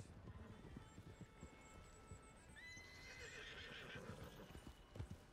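Rapid hoofbeats of several horses running in Red Dead Redemption 2, with a neigh rising midway and a faint voice under the steady pounding.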